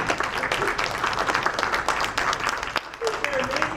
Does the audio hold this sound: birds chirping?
no